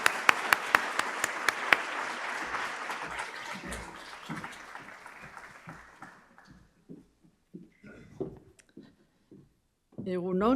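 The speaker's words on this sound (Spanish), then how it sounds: "Un fuerte aplauso para ellas" Applause from the audience at an inaugural conference lecture starts with a few sharp distinct claps, swells into a dense patter and then fades out, giving way to someone speaking.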